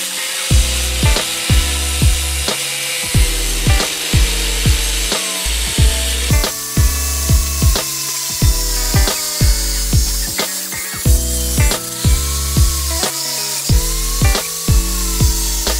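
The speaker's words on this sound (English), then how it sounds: "These are great for cutting metal in like every circumstance" A cutting wheel slices metal while a custom timing cover is modified for a Geo Metro, giving a loud, close, rhythmic grinding that repeats in short strokes with brief pitch-dropping pauses throughout.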